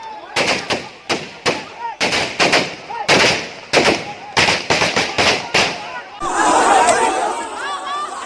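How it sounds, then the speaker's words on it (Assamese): Sharp gunshots from police firing into the air crack out loud and close in irregular bursts, a dozen or more, followed by a crowd shouting and clamoring in Diphu. "বাধ্য হৈ শূন্যলৈ গুলীচালনা কৰিছে আৰক্ষীয়ে"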